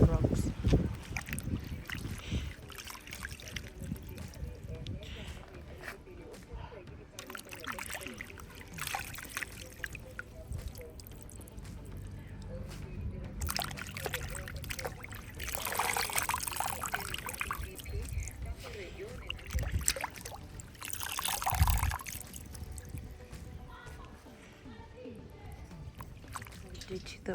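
Hands swish and splash spider plant (rothwe) leaves in a bowl of water, rinsing off soil and small rocks while preparing a traditional Botswana dish; the water sloshes in irregular bursts, with muffled voices in the background.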